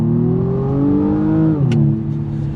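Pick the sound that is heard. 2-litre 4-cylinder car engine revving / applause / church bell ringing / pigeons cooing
2-litre 4-cylinder car engine revving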